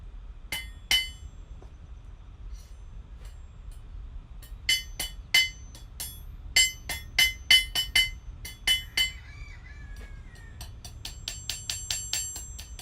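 Light hammer taps on hot metal in a smithy ring out close by, irregular at first and then in quick bursts, each one a bright, ringing clink.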